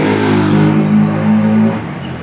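Motorcycles rev loudly on a street, a close engine drone rising and holding for about two seconds before easing off.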